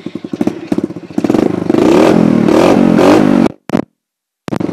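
A 110cc dirt bike engine putters in a quick chugging rhythm, then revs up into a loud, sustained roar. It cuts out abruptly, gives a brief burst, falls silent, and then picks up again close to the mic.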